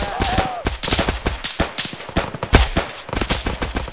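Rapid bursts of automatic gunfire ring out in the video game Arma, dense volleys of sharp shots fired close by with a few heavier bangs mixed in, filling the whole stretch.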